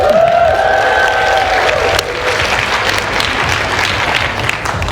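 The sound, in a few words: audience applause and cheering for Joey Carbstrong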